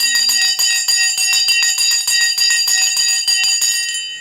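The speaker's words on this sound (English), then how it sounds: "ring the bell" A sponsored bell is rung repeatedly during a live stock market trading stream, loud, close metallic strikes in a fast steady series with a long ringing tone, alone without talk, fading at the end.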